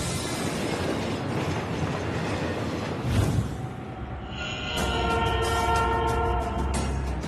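A train rolls over newly surfaced track, a loud continuous rumble and rattle of wheels close by, shifting midway into a steadier drone with high squealing and ringing tones layered on top.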